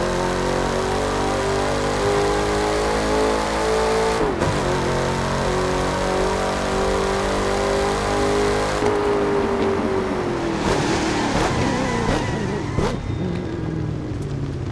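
A 5-liter Ford Mustang engine in a video game revs hard and steadily, its pitch climbing and dropping through gear changes, loud and close with no voices.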